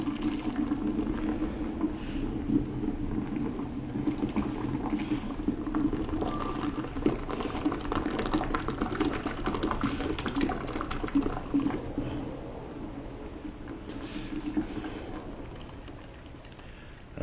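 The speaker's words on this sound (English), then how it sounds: "Blueberry puree. I pour it in on the high side for aeration." Blueberry puree poured into home-brewed lemon blueberry beer for aeration gives a steady, faint liquid rush and gurgle that runs unbroken for about seventeen seconds and eases off near the end.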